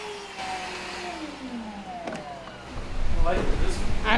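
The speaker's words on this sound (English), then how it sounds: "I love that little vacuum." A small vacuum whines steadily, its pitch sliding down and then rising as the motor revs, with a louder burst of noise near the end.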